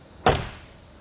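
A heavy BMW E30 M3 car door shuts with one solid, close thunk that fades quickly into quiet.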